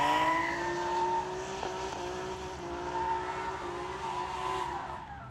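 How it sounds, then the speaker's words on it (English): A Pro-Am drift car at the 2018 British Drift Championship, round 2, runs its engine at full power while its tires squeal. It makes a sustained, steady, strained roar with overlaid squealing, heard from a trackside distance with no talk. "And Walker, you can just hear using every little bit of power that car has"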